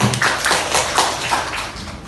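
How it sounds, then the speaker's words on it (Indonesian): Schoolchildren in a classroom clap their hands together in a loud, steady, close patter that fills the room. "Oke, tepuk tangan untuk Dila"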